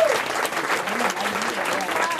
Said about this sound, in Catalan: Un aplaudiment per a Miquel Pedro, per favor,